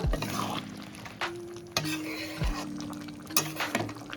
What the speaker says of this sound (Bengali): দশ মিনিট পর আবার ওটা খুলে নিলাম নাড়াচাড়া করে নেব